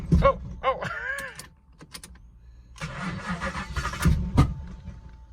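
A Ford Focus project car with a twin-turbo V8 cranking in cold weather: two short bursts of whirring starter churn, a pause, then a longer, uneven cranking run that sputters without catching.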